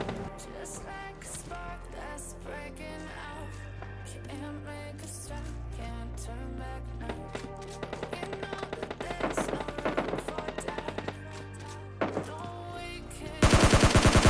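Rapid bursts of game gunfire crackle over a pulsing electronic soundtrack, with sharp repeated shots and a loud burst near the end.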